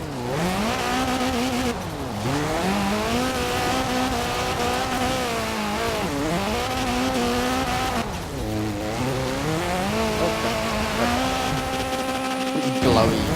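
A Ford Capri FE in the video game Forza Horizon 4, its engine revving up and down in repeated sweeps while the tyres squeal through drifts, loud and continuous, with a voice talking faintly in places.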